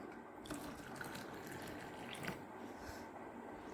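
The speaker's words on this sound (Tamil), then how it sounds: "பாலை இப்போ ஊற்றுறேன்" Milk poured into blended pomegranate juice, a soft, steady trickling pour that runs faintly and evenly throughout.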